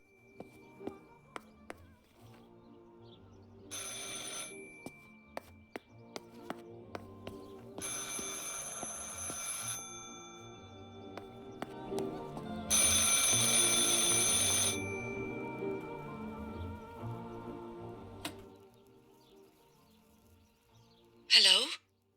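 In the video game Martha is Dead, a telephone rings in several separated bursts over a quiet ambient background with faint clicks, ending with a brief sharp sound.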